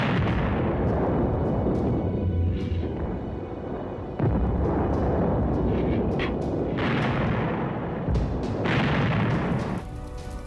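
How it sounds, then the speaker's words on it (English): German World War II anti-tank guns concealed in woods and fortified farms firing on tanks during Operation Goodwood, a continuous rumble of distant booming shots and explosions, with several sharper reports standing out. "German anti-tank guns concealed in woods and fortified farms, the majority of which had survived the bombing,"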